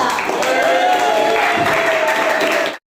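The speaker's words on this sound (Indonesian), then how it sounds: "Tepuk tangan untuk kelompok 3." A classroom group claps for the third team in a teacher-training session, a dense, steady burst of hand clapping mixed with cheering voices that runs close and loud for nearly three seconds before cutting off abruptly.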